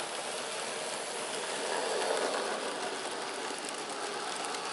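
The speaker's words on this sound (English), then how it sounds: "The train just barely squeaks by." An N scale model train runs along a layout with a steady, even mechanical whirr and faint rail rumble, constant and close with no talk.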